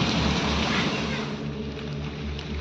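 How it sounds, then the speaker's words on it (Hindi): Steady rain keeps falling in a village garden after Cyclone Biporjoy, a dense, even hiss that holds without letup for the whole stretch. "थोड़ा बारिश जो है कम नहीं हुई है लेकिन हवा कम हो चुकी है।"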